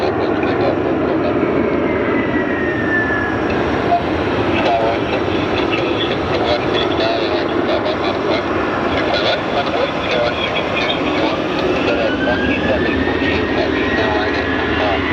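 Airliners at Sky Harbor International Airport roar steadily in the distance, a continuous loud jet rumble with rising and falling engine whine throughout, while people talk nearby.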